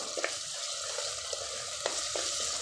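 Ginger garlic paste frying in a pan for a drumstick masala curry, with a steady broadband sizzle and a few soft spoon scrapes and clicks as it is stirred, close and alone with no talk.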